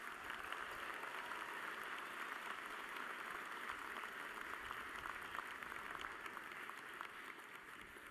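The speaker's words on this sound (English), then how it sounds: "Let's give them all a round of applause." A commencement arena audience claps steadily for the musicians, a continuous, fairly distant wash of applause with no break.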